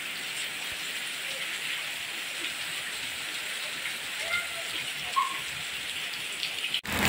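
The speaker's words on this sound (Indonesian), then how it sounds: "Hujannya besar sekali ya." Heavy rain pours down steadily in a village in Sukabumi, West Java, a dense close hiss of drops on surfaces, with faint voices briefly underneath and a small knock near the end.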